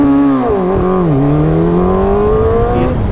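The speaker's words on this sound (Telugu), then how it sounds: "అప్పుడు ఫస్ట్ గేర్ ఫుల్ థ్రాటిల్," Superbike engine at full throttle in first gear, a loud close continuous roar with rising and dipping pitch as it revs hard, no voices.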